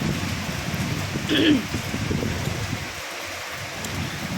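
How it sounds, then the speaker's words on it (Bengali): Steady rain falls continuously on trees and greenery, a broad even hiss that stays at a constant level throughout, with a brief louder burst near the start. "কন্টিনিউ বৃষ্টি হয়ে যাচ্ছে"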